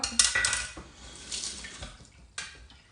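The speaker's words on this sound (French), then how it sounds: "Donc une banane que je vais couper en morceaux." A knife cutting a banana into pieces, with a few soft, sharp taps against the board spaced irregularly, quiet and close with no talking.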